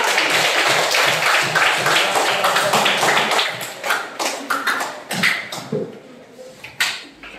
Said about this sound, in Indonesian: Ya, kita buat tepuk tangan.